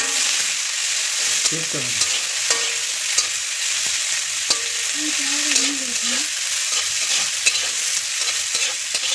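Chilli, ginger and onion stirred and fried in a pan on a gas stove as the base for an egg curry, a steady close sizzle with spoon scrapes, and brief speech over it.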